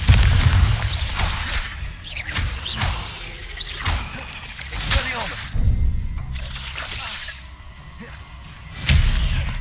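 The Expelliarmus disarming spell being cast in the wizarding game Hogwarts Legacy, heard as whooshes, cracks and booming impacts that rise and fall through a busy fight.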